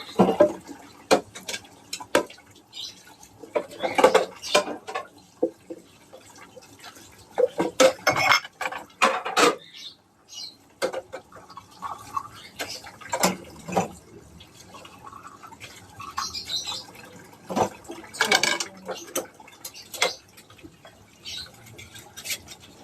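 Dishes, pots and steel utensils being washed by hand with water: irregular clinks and clatters of metal, scraping, and splashes and dribbles of running water, close and intermittent with quiet pauses, no talking.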